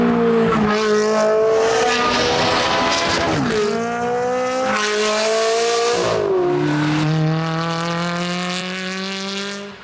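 A Ferrari sports car with a sports exhaust and paddle-shift gearbox revs hard and loud, its engine note climbing through repeated gear changes with brief drops between shifts.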